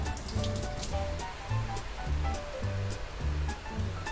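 Running water rinses a cleaned crucian carp, a continuous splashing rush with low tonal sounds running alongside.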